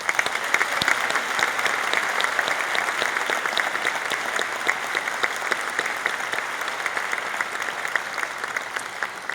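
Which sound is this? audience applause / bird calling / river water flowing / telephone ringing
audience applause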